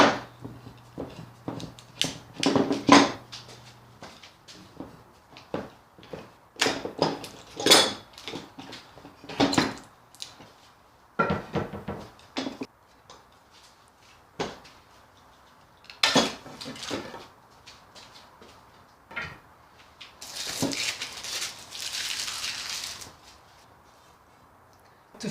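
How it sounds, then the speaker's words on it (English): Metal clamps loosened and taken off a glued, laminated wooden guitar neck blank, heard as irregular clanks, knocks and rattles with small gaps between them and a short burst of hiss near the end. "now it's time to take off the clamps"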